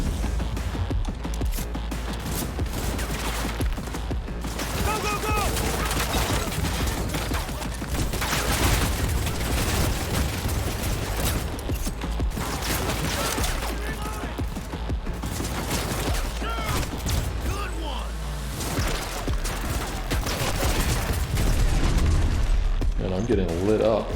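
Constant heavy gunfire in Cyberpunk 2077, with dense rapid shots and booming impacts running throughout, under a player's talking.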